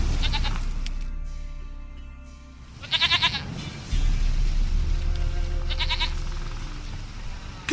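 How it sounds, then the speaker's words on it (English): A goat bleats in The Witcher 3: three short, nasal bleats spaced a few seconds apart over a quiet game ambience. "Goat of mine, dearest, sweetest goat."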